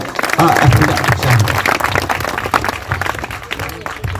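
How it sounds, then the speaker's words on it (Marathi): Applause for a teacher at a school felicitation ceremony, a crowd clapping together for a few seconds under an announcer's voice, the claps fading out as speech continues. "त्यांच्यासाठी सर्वांनी एकदा जोरदार टाळ्या वाजवा"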